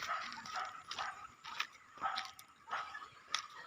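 A native desi puppy on a poultry farm gives repeated short whimpers and yips, faint and fairly close against a steady background hiss, with no talking.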